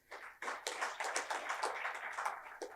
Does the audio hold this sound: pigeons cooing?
no